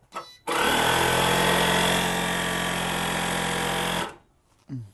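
A spark plug tester fires a new iridium plug from a 2017 Mazda 3 with a 1.5-litre petrol engine, giving a loud, continuous buzzing crackle of rapid sparks for several seconds. The sound stops abruptly, with brief voices before and after.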